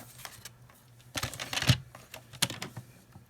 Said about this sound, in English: I'm going to take my paper trimmer